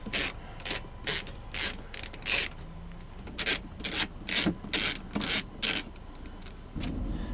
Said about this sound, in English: I have a 10mm on a socket, and I'm going to remove the 2 bolts right here.